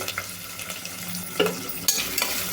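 Onion slices frying with green chillies and fennel seeds for mushroom biryani, a continuous close sizzle broken by a few sharp utensil scrapes and clinks as the pan is stirred, no voices.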